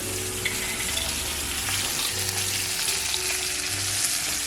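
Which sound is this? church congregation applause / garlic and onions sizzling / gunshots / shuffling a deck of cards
garlic and onions sizzling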